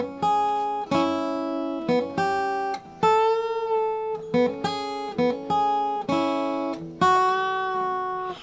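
Electric or acoustic guitar riff picked on the thin first and second strings, played alone as a bright repeating two-part phrase of clear plucked notes with steady rhythm and no talking.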